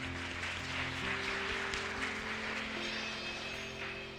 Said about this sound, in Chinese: 让我们来拍手，将这一切荣耀归给我们上帝